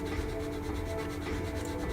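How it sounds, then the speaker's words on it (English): Steady abrasive rubbing of 280-grit sandpaper across Vallejo plastic putty on a 1/48 Hasegawa F-22 Raptor model kit, a continuous close scratchy hiss with no pauses or talk. "This sandpaper, I believe this is 280 grit."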